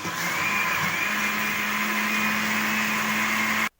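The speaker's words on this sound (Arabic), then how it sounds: "كيف ما قلنا غنخدم كل شيء بالخلاط الكهربائي" An electric mixer whirring continuously at high speed through lemon cake batter, loud, close and steady with a constant motor hum, then cutting off abruptly at the end.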